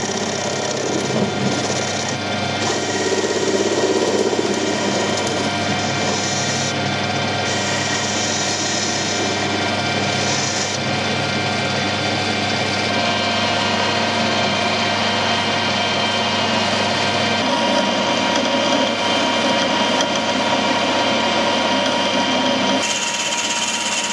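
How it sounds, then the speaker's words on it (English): A drill bit cuts a hole in a machine, running continuously with a loud, steady mechanical whine and rumble, its tone shifting slightly as the bit cuts through the material. "We'll put it in the machine and try drilling the hole and see exactly what it does."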